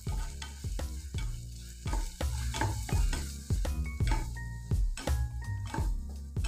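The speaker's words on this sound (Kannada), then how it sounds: "ಈಗ 3/4 ಕಪ್ನಷ್ಟು ಕಟ್ ಮಾಡಿದ ಈರುಳ್ಳಿ ಹಾಕ್ಕೊಂಡು ಈರುಳ್ಳಿದು ಹಸಿ ವಾಸನೆ ಹೋಗೋ ತನಕ ಫ್ರೈ ಮಾಡ್ಕೋಬೇಕು" Chopped onions fry in oil in a pan with a steady close sizzle, punctuated by frequent sharp scrapes and knocks of a spatula stirring against the metal.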